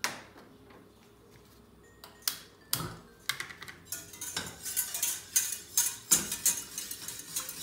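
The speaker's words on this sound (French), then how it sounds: "Là on fouette." A whisk beats a chocolate dessert mixture in a pot, giving quiet scattered metallic clinks and scrapes that grow into a quicker, louder rhythmic tapping against the pot, with no talking.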